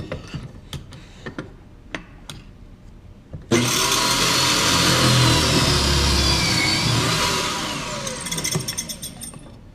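A power saw cuts a tenon shoulder in wood: a few light clicks and taps, then the saw starts abruptly with a loud, steady whine for about five seconds before winding down, close and without talk.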